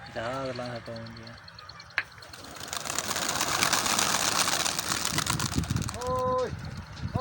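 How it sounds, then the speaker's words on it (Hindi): Pigeons coo in short repeated bursts near the start and end, over a steady outdoor hiss, with a single sharp knock. "वैलेंटाइन डे कबूतर हैं"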